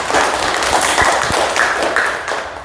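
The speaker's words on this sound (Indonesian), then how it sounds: "kita beri tepuk tangan dulu untuk kelompok 1" A classroom group claps in applause for a student group's presentation, a short burst of dense, steady hand clapping from several people nearby, fairly loud and alone.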